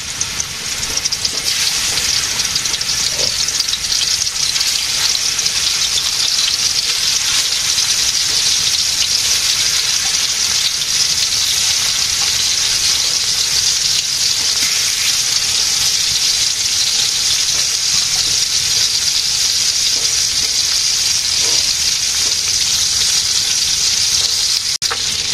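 Pangas fish pieces frying in oil in a village kitchen give a loud, steady, dense sizzle that runs unbroken for the whole stretch. A few faint knocks sit underneath it, and nobody speaks.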